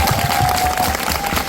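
Audience applause in a cinema at a film screening Q&A event, a brief dense wash of clapping without talk.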